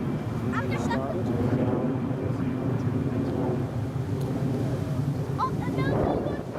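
Ryanair airliner engines running at Newcastle International Airport before taxiing to the runway, a steady distant whine and rumble with wind buffeting the microphone and people talking over it.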